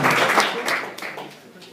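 Applause breaks out for a winner at a Romanian awards ceremony, a dense patter of clapping that holds steady and then tapers off toward the end.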